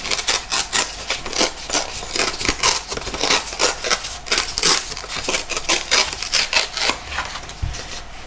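Product packaging being torn open by hand, a close run of rough ripping and crinkling bursts in an uneven rhythm, loud and continuous.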